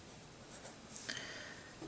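Erasable pen gliding across paper in a smooth, quiet writing stroke, faint and close, with light scratchy ticks partway through and no talking.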